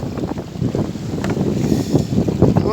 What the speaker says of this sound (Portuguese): O vento aqui tá soprando de 50 km por hora